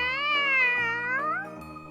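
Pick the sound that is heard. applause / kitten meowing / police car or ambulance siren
kitten meowing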